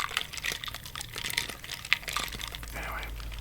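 Cranberry ginger ale poured over ice in a glass, with soft fizzing, crackling and trickling close to the microphone in a quiet, whispery setting.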